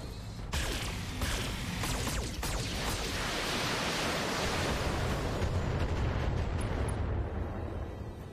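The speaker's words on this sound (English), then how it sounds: "So we're going to shoot all of our weapons at it." Sustained roar of mech weapons firing at a Dragon mech in the BattleTech game, a dense wall of blasts and rumble with sharp bursts early on, loud and continuous for several seconds with no talk.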